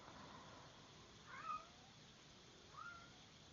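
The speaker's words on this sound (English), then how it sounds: "That's my cat." Two short cat meows, the first around the middle and a second softer one near the end, over faint background hiss.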